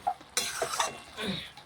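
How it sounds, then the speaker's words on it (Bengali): A spoon scrapes and clinks against a pan while mashing and stirring boiled cabbage for a vegetarian cabbage jhal, a few quick, close, metallic scrapes in a short burst. "এখন বেশ কিছুক্ষণ সময় নিয়ে একটু নাড়াচাড়া করে বাঁধাকপিটা একটু ম্যাশ করে নিচ্ছি এইভাবে।"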